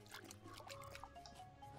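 In the farming video game Summer in Mara, crops are watered, giving soft, quiet splashing and trickling water sounds that run steadily for a moment.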